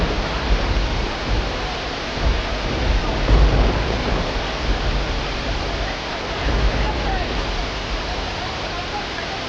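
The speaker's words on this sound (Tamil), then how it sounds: "பேரிரைச்சலுடன் அருவியில் கட்டுக்கடங்காத நீர் கொட்டி வருவதால் காட்டாற்று வெள்ளம்" A flooded Thirumoorthi hill waterfall in the Western Ghats roars after heavy rain, its dense, unbroken wash of falling water loud and steady throughout with slight surges.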